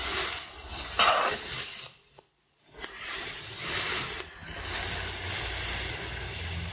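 Steady sizzling hiss of onions frying in hot oil in a cauldron over a campfire, with a brief quiet dip partway through before the crackling resumes.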